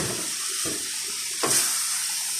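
Shrimp frying in oil as rice is tipped into the pan, a loud continuous hiss of sizzling that swells briefly when the rice lands, with a soft scrape of stirring, close up.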